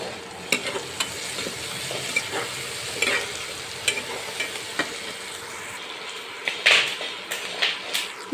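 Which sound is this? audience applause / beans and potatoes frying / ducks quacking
beans and potatoes frying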